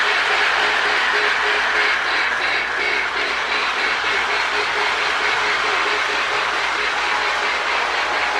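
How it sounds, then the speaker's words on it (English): A Marx mini 999 toy train pulls a Sound of Power tender fitted with a Lionel sound board, giving a steady, loud, continuous mechanical rumble with faint rhythmic clatter throughout, and no talking. "Sound of Power tender sounds good with that Lionel board in it."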